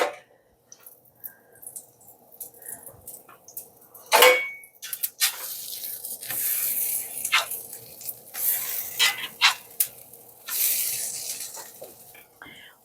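Sourdough pancakes cook in coconut oil in a pan, a soft sizzle running under intermittent scrapes, clinks and stirring sounds of a spatula against the pan, with a sharp knock near the middle.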